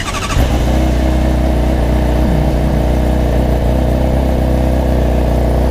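A 2021 Honda CBR600RR motorcycle engine cranks and fires, then settles straight into a steady, loud idle close by.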